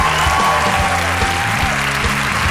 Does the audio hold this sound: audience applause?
yes